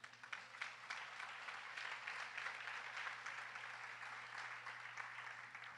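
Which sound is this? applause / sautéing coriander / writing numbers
applause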